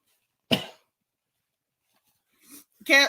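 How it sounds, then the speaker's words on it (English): A single sharp cough bursts out near the start, followed by silence and then a short murmur of speech at the end. "I had to cough"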